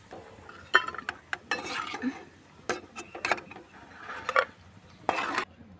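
Fried flattened rice is scooped from a pan onto a plate in a village kitchen, with a series of quiet scrapes, clinks and spoon-on-metal taps spaced irregularly over soft background hiss.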